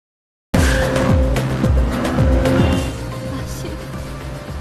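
Tires squeal loudly as a car speeds off in an escape scene from a Korean action film, the engine roaring over a thick, busy mix before the noise eases slightly toward the end.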